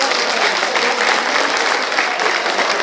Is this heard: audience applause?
yes